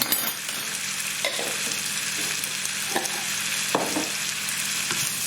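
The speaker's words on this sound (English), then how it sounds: "give that a stir again." Crushed garlic and ginger frying in a pan while being stirred, a constant bright sizzle broken by several short scraping strokes of the utensil, close and alone.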